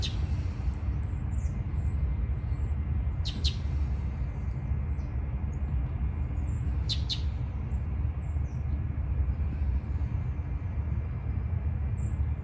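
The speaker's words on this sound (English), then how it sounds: "I just love listening to the birds out here." Birds chirp outdoors on a patio with leafy oaks, short faint tweets scattered over a steady low outdoor rumble, with a couple of brighter calls standing out.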